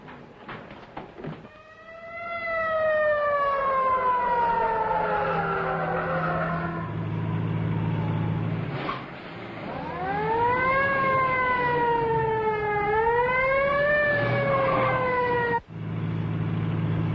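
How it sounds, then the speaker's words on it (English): A 1930s ambulance siren wails, sweeping slowly down and up in pitch over a rumbling engine, loud and sustained with a brief dip midway. "Follow that ambulance."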